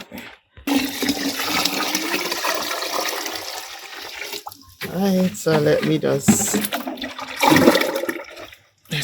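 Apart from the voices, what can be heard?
pouring water into a container of plant tea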